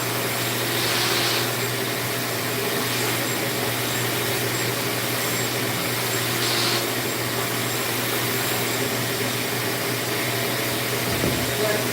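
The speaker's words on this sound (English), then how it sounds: "Let's see how that does after we vacuum it off." A vacuum cleaner sucks dust off a surface during a home repair, a loud constant motor whine with a low steady hum, sustained unbroken for the whole stretch with slight swells as the nozzle moves.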